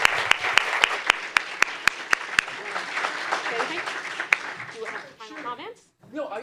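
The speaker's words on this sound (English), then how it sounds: "let's again give a round of applause to our candidates tonight" A forum audience at a county superintendent of schools candidate event applauds the candidates, dense clapping filling the room for several seconds before thinning out, with a few sharp isolated claps and murmuring voices at the end.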